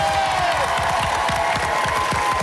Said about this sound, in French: Quelques applaudissements pour les bleus.